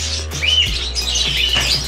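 Many parakeets chirp and tweet busily close by inside an aviary, overlapping bright calls in a continuous chatter over a low steady hum.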